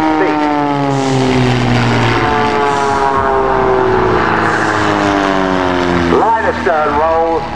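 Loud, continuous propeller-engine drone of aerobatic biplanes with shifting pitch as they pass overhead in line astern, a second engine note sweeping near the end, with a voice speaking over it.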